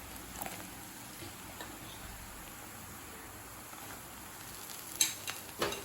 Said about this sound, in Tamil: நம்ம எண்ணெயில் போட்டு பொரிக்க ஆரம்பிச்சிடலாம்.